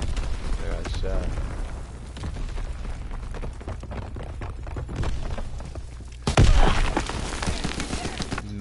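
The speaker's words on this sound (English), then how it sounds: "No, I heard an explosion." An explosion in the video game Call of Duty WW2 erupts partway through, a loud deep boom over continuous rumbling gunfire and battle noise, with voices talking over the game throughout.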